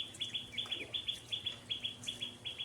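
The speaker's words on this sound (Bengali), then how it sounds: "এই দেখুন হাঁস চলে এসছে সব।" Village ducks gather for feed, giving a quick, regular series of high, thin peeping calls that sound fairly close but soft.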